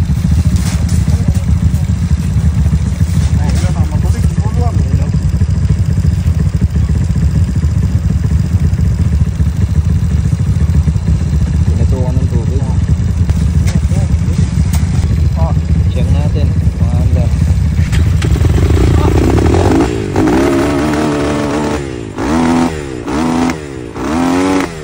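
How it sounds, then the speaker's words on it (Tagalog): Enduro motorcycle engine running after a water-soaked breakdown, a close, loud, steady drone for most of the time that then drops and fluctuates as people talk near the end. "At ayan na nga, umandar na ulit yung enduro."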